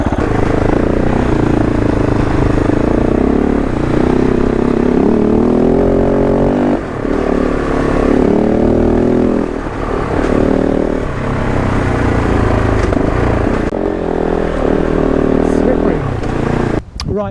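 A Kove 450 Rally adventure motorcycle engine drones and revs steadily as it rides through a deep, soft muddy puddle, close and loud, with someone talking over it.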